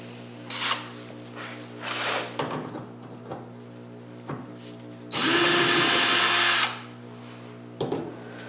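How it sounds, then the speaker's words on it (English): An electric screwdriver whirs for a couple of seconds while removing a marker light from a parts car, preceded by scraping, rubbing and clicking as the tool is positioned, over a steady low hum. "he's going to use the electric screwdriver to"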